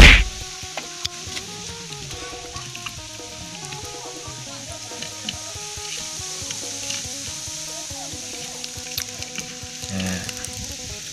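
Meat stir-fries and sizzles steadily in a pan, with a continuous crackling hiss and frequent scraping clatter of stirring throughout. No one speaks.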